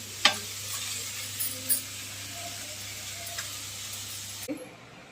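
Raw green chilies fry in a pan with a soft, steady sizzle, broken by a few sharp spattering pops and light clinks near the start and end.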